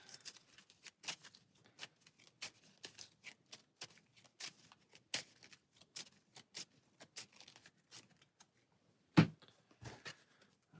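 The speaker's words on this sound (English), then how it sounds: "So we're going to shuffle these back into the deck." Rapid papery riffling of Arkham Horror: The Card Game cards being shuffled, in repeated bursts with brief pauses, fairly quiet and close, with no talking.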